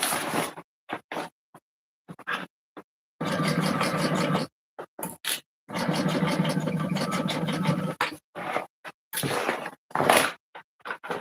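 Sewing machine stitching a seam at the seam allowance of a convertible garment; motor whirs in several bursts of varying length separated by silences, with short stop-start pulses between longer runs.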